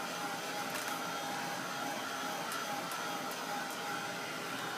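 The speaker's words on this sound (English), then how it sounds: "don't keep your heat gun in one spot too long" A heat gun drying acrylic paint on a craft tag, a steady, close whooshing blower hiss holding an even level throughout with a faint tonal whine, no talking.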